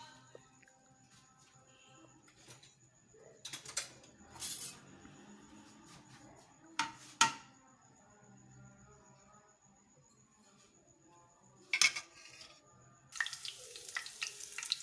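Quiet, steady sizzling of garlic frying in oil, broken by a few louder bursts of stirring and clinking, with no talking.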